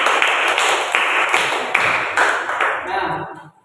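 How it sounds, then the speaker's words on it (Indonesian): A grade 7 class applauds together in a classroom, a loud burst of clapping that runs for about three seconds with a few sharper slaps, then fades out quickly. "mari kita beri aplaus untuk diri kita masing-masing"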